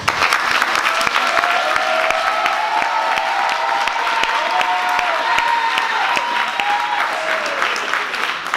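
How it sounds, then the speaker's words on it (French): Loud, sustained applause from a festival closing-ceremony audience, dense clapping throughout with a steady faint tone running underneath. "vous pouvez les applaudir très fort"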